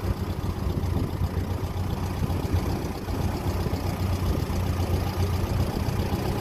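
A 1957 Ferguson 35 tractor running on TVO chugs steadily at a low, even idle-like pace, its deep engine rumble close and continuous with no talk over it.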